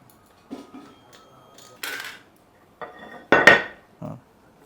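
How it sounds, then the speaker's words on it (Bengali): Metal clamps come off candle moulds in a run of separate clanks and clinks. A few sit close and sharp, and quiet handling fills the gaps between them. "এইবার ক্লাম্পগুলো খুলে দেওয়া হচ্ছে"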